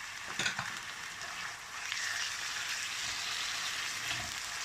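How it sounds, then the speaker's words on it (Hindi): Boneless chicken browning with garlic in a pan, a soft continuous sizzle with a few stirring scrapes near the start, quiet and close, no voices. "जिसको थोड़ी देर के लिए कलर चेंज होने तक इधर ही इसको थोड़ा भूनेंगे चिकन को।"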